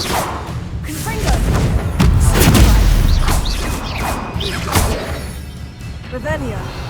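Confringo fire-blast spells explode repeatedly in Hogwarts Legacy, giving several heavy thumps and booms in a combat mix, alongside spoken incantations and other battle sounds.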